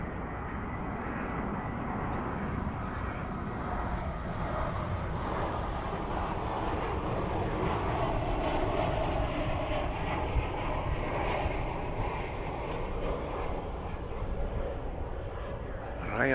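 A Viva Aerobus airliner in Rayados football club livery, arriving at DFW from Guadalajara, makes a steady broad engine roar that holds loud and even throughout, with faint voices in the background.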